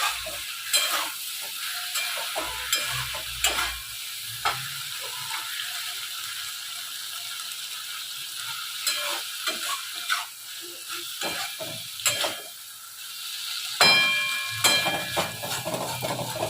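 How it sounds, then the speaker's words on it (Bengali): Mustard spice paste frying in a pan while being stirred, with scraping and clicking strokes of a spoon and a soft sizzle through the whole stretch, close and moderately loud. "মশলাটা একটু ভাজা হয়ে গেলে মানে সর্ষের কাঁচা কাঁচাটা একটু চলে গেলে"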